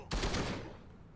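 A short burst of gunfire in the video game Gemini: Heroes Reborn, a loud rapid volley of shots at the start that quickly fades out, with no talking.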